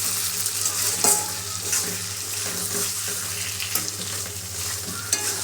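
Mutton with new potatoes is stir-fried for Bengali kosha mangsho, a constant loud sizzle in the pan punctuated by irregular scrapes and clinks of a stirring utensil, no voices.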